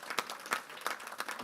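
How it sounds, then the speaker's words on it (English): Audience applause at a public event on crime reduction in Prince George's County: a brief, fairly quiet burst of separate, evenly spaced claps. "We can give him a round of applause."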